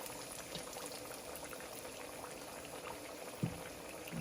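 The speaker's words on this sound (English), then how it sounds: "And this fish is going to fry about 3 to 5 minutes." Battered catfish frying in hot grease, a steady, fairly quiet bubbling sizzle close by, unbroken apart from a single brief knock near the end.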